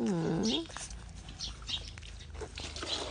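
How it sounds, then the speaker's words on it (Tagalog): A mother dog gives a short, high whimpering whine up close at the start, then only faint rustling and small scattered sounds from her and her puppies follow. "Hello, mommy dog."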